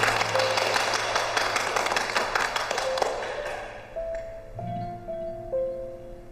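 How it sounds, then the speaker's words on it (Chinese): Clapping greets the new lobby manager of a hotel, a dense burst of hands for about three seconds that fades out, followed by a few sustained tonal notes, probably music. "大家鼓掌欢迎。"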